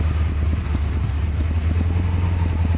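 Porsche 928 engine idling roughly and struggling to keep running, a close, low, uneven rumble with irregular pulsing beats and no voices.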